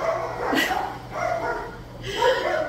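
Dogs bark several times in a row, fairly close and loud, with a steady low hum underneath and a voice talking between the barks.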